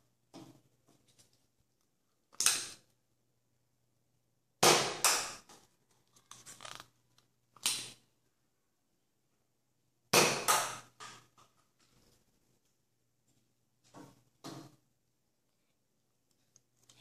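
Nerf Jolt blaster firing Elite darts, a handful of sharp, close snapping clicks spaced a few seconds apart with faint handling rattles between, otherwise quiet.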